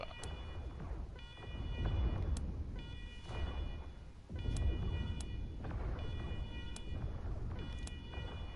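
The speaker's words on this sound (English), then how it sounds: "What's with all the sirens and shooting?" Alarm sirens wail in the Steeltown area of the video game Wasteland 3. Repeating tonal blasts rise and fall in cycles over a dense, rumbling background of noise.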